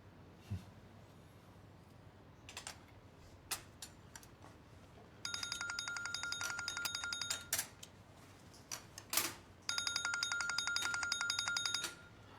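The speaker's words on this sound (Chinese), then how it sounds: "我女儿电话" A phone rings during a dinner, two long electronic ringing bursts with a gap between them, over quiet clatter and faint table sounds.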